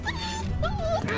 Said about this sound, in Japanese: 犬だ。